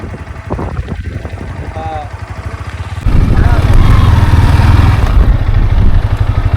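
A Yamaha R15 motorcycle engine runs close by, a steady throbbing rumble that grows noticeably louder and heavier midway as if revved, with a voice speaking over the first part.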